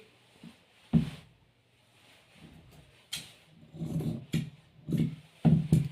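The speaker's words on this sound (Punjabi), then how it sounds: "ਇਹ ਵਾਲਾ ਨਿਸ਼ਾਨ ਇਹਦੀ ਆਪਾਂ ਕਟਿੰਗ ਕਰ ਲਾਂਗੇ" Close-up scissors cut salwar fabric along a marked line, giving irregular crisp snips and rubbing scrapes separated by short quiet gaps.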